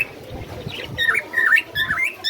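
Java sparrow chicks calling in quick, high-pitched chirps that grow busier toward the end, over a low rumble of wind.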